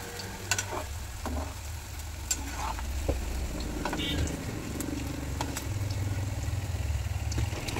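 Cabbage Manchurian balls deep fry in oil over a low flame, giving a steady bubbling sizzle with occasional louder pops and faint clinks from a utensil, close and continuous.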